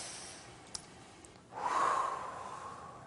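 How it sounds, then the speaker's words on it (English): One slow, deep breath is drawn in through the nose, then a long, close, airy exhale. Before it there is quiet room tone with a faint click, and no voices are heard. "Take a deep breath."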